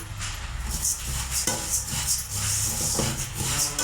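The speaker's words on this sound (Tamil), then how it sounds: "கொத்தமல்லி நம்ம நல்லா வறுத்து எடுத்துக்கலாம்" Coriander seeds dry-roasting in a pan, a dry rattling and scraping as a utensil stirs them against the metal in steady repeated strokes, fairly close and without talk.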